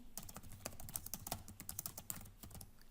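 A batch name is typed on a computer keyboard in a rapid, steady run of close, crisp keystrokes with no voices.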